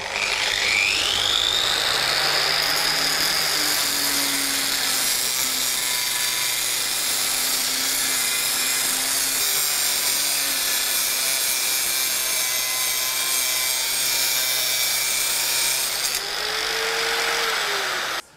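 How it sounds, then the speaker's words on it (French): A loud, continuous high-pitched grinding whine runs for nearly twenty seconds, shifting slightly in pitch as a two-handed angle grinder cuts through sheet metal. "la meuleuse, elle est tenue nécessairement à deux mains et là aussi avec fermeté"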